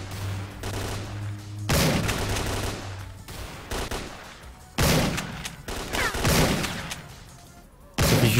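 Rapid bursts of gunfire in S.T.A.L.K.E.R. Clear Sky, several loud volleys separated by short pauses, with booming impacts and a low hum between shots.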